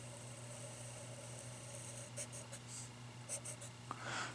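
A pen draws a graph on paper in a quiet room, short faint scratchy strokes coming in bursts over a steady low hum.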